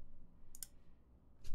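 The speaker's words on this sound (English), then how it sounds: "That spacebar sounds pretty good. Has a nice pop to it." Two crisp, poppy spacebar presses on a TGR 910SE mechanical keyboard fitted with Alpaca switches, close and distinct with a short quiet gap between them.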